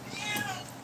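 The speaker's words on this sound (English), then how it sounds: "hearing the meowing" A cat gives a short, mid-pitched meow close by, lasting under a second over faint background noise.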